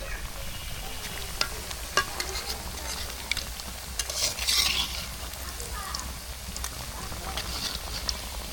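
Pitha soaked in milk frying gently in a village kitchen, a soft steady sizzle with occasional stirring clicks and a short burst of louder crackle midway.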